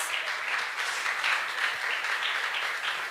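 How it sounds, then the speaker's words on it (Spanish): A church congregation bursts into sustained applause during a sermon, a dense, even wash of many clapping hands that holds steady and fairly loud throughout. "Y si usted lo cree, dése otro aplauso."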